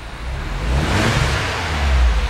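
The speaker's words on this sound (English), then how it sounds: "I'm gonna rev the engine." A parked yellow 2009 Mini Cooper S has its engine revved, a rising, sustained throaty roar that climbs and holds near the microphone with no talking.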